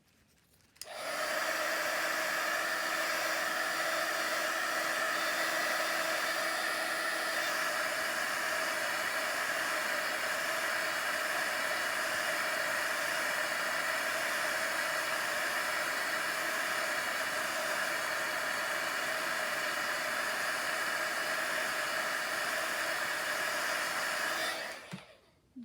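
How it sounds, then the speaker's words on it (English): A heat gun blows hot air in one steady, loud, even rushing hiss, switching on abruptly and running unchanged for about twenty-four seconds before cutting off. "heat it with the heat gun"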